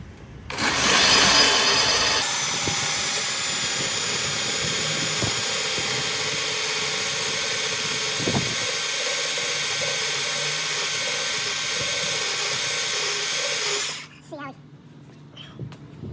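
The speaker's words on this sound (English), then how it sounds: "Belt sander." A belt sander runs close and loud on a '63 Ford F250 exhaust job, starting with a sharp high whine, settling into a steady roaring hiss for about twelve seconds, then cutting off abruptly.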